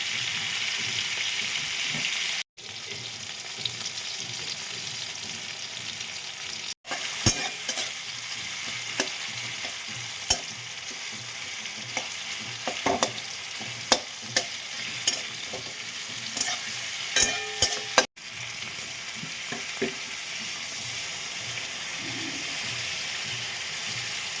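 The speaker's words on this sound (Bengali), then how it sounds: "টমেটো আর পেঁয়াজটা একটু ভেজে মশলাটা দিয়ে দেবো।" Tomato and onion frying with ginger, cumin, green chilli and ground coriander, a loud continuous sizzle broken by stirring scrapes and clinks, cut off briefly a few times, with no voices.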